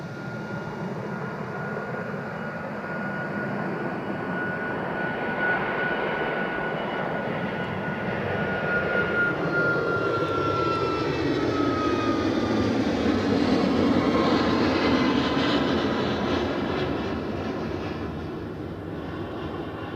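A Boeing 737 Max 8 airliner departs Edinburgh Airport, its engine roar building from a steady rumble to a loud, broad swell before easing as it climbs away, with no voices.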